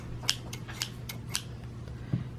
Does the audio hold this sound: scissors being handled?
yes